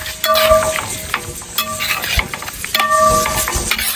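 Food sizzles and crackles in a hot pan with coconut oil while a utensil stirs and scrapes against it in a few bursts, close and fairly loud.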